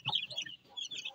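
Chicks peep in quick, high, close-up chirps while being fed eggs, several overlapping calls in two short bursts.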